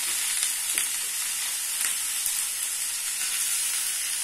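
Spices and dried chilies hitting hot oil in a pan for a capsicum dish, a loud, dense, continuous sizzling hiss that holds steady throughout with faint crackles, close up.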